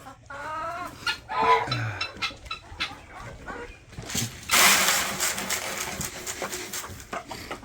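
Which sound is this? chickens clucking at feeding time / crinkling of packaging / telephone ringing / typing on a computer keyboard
chickens clucking at feeding time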